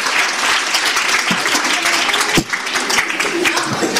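Loud applause from an audience at a music showcase in a Feltrinelli bookstore, dense clapping throughout with a few sharper claps and faint voices mixed in.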